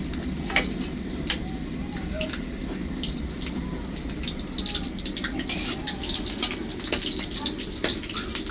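Bay leaf, cardamom and dried red chili hit hot oil in a kadai, giving a steady close sizzle with crackles and stirring scrapes throughout.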